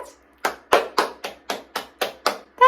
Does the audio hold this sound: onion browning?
no